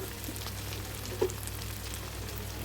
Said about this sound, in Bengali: পরিমাণ মতো লবণ দিয়ে চিকেনটাকে আরও বেশ কিছুক্ষণ কষিয়ে নিলাম